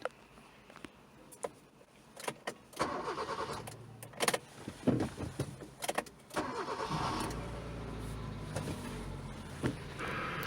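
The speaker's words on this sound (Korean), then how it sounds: "온 하고 시동을 걸어줘야지 정상적으로 걸립니다" A car engine cranks and starts after a kill switch is switched on, with clicks and a starter whir before the motor catches and settles into a steady idle, heard close and alone.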